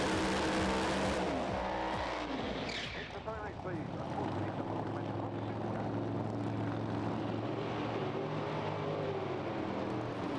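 Pro Mod drag racing cars in British Drag Racing Championship qualifying roar loudly and continuously, a dense engine blast that fills the whole stretch, with a commentator talking over it.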